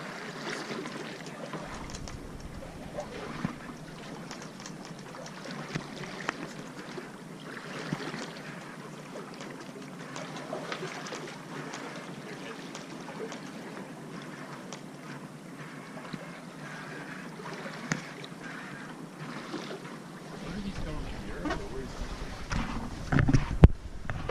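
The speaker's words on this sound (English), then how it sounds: "It's just a little boat." A small boat moving on water, with a steady low rumble and water wash throughout, growing a bit louder near the end.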